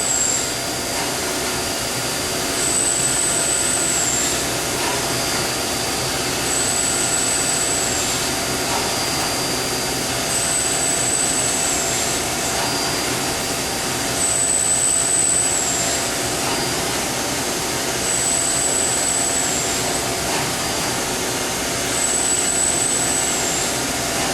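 A steady, loud machine whir runs throughout, with a high-pitched whine recurring about every three seconds as a Mazak CNC mill drills a hole.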